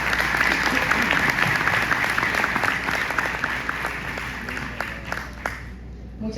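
Conference audience at an ANALDEX Colombia congress on reindustrialization applauding the panelists, a full sustained round of clapping that thins out and fades toward the end.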